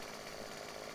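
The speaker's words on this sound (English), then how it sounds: "Oh, the chainsaw's loud. Sorry about the loud chainsaw." A chainsaw running in the video game 7 Days to Die, a faint, steady buzzing drone held at one pitch without pause.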